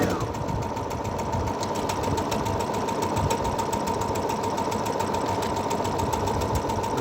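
A Brother DS1300 computerized sewing machine stitches with a fast, even mechanical whir and a rapid needle rhythm, running steadily and close up from start to finish.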